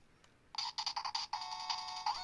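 An electronic chime plays: a run of short, bright tonal pulses that settles into a sustained ringing tone, clear and close against a quiet background.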